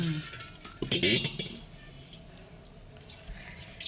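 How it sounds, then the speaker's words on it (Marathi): Water is drained off rice that soaked overnight: close clinks of a container and trickling drips, louder at first, then a quieter stretch of faint liquid sounds. "पाणी सगळं आता हे नितळून काढायचं"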